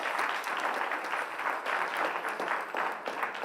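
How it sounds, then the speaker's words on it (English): Audience applause in a hall at a research day opening plenary, a dense, even round of many hands clapping, fairly close and without speech. "please ensure that you give Mr. Courtney Morgan from TVJ a big round of applause in the building"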